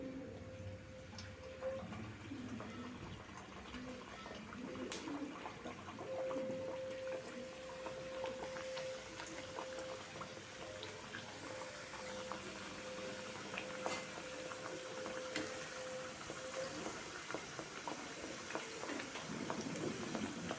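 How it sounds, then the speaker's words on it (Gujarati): Farsi puri, a layered flaky Gujarati snack, frying in hot oil over a medium flame, giving a steady bubbling sizzle throughout with a faint tonal hum in the background and no talk. "તેલ આપણું ગરમ થઈ ગયું છે ફરસી પૂરી તેલમાં એડ કરીશું"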